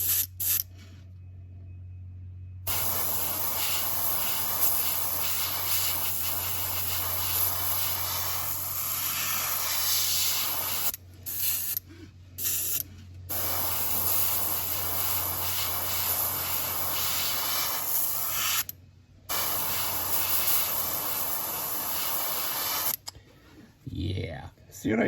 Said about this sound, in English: I am going to be shooting this straight down the back